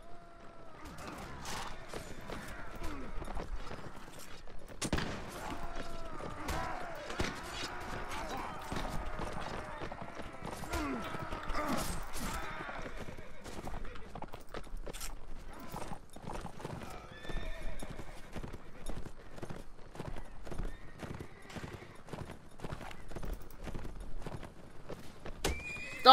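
Horses galloping and neighing in the Mount&Blade video game's L'aigle mod, rapid clip-clop hoofbeats throughout a battle with repeated whinnies, shots and clatter, steady and fairly loud, with someone talking over parts of it.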